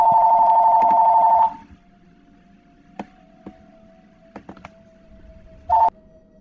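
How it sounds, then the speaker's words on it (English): An electronic telephone ring tone plays in the Mass Effect video game, a steady, fairly loud tone lasting about a second and a half. A few soft clicks follow, then a brief second burst of the ring. "I hear a phone ringing"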